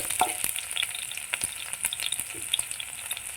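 Green chilies sauté in a pan with garlic, giving a bright, crackling sizzle with sharp pops and spatula scrapes scattered through it, close and continuous with no talk.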